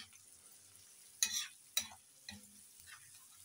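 Quiet kitchen scene with a few sharp bursts of sizzling as dry spices hit hot oil with softened onions for a saag tempering, two loud hisses followed by a softer one.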